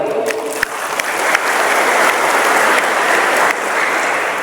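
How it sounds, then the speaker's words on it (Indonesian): A crowd at a closing ceremony for a security-company training course in Empat Lawang applauds the regent, a dense, loud, steady wash of clapping that carries on for several seconds without a break. "tepuk tangan untuk beliau"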